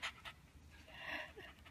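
Cookie, a happy dog just back from a walk, pants in a few close breathy bursts, with a longer airy stretch in the middle; no talking over it.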